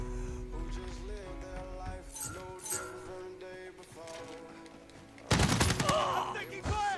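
Gunfire in a first-person shooter game, bursts of rapid shots over game sound and tonal effects, with a much louder, dense volley near the end.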